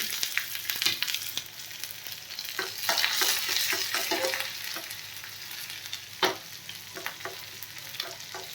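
Cut green chilies and a small piece of onion frying in a pan, a bright steady sizzle close by with repeated scrapes and taps of a spoon stirring, no talking.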